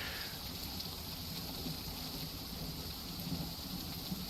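Soft, steady video game rainfall hisses continuously in the background, faint and even, with no talking.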